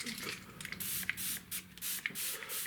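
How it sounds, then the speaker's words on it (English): A hand spray bottle mists water onto acrylic paint on primed paper, giving about five or six quick, close hissing squirts in an uneven rhythm, with faint soft handling sounds between them. "I've got a spray bottle here"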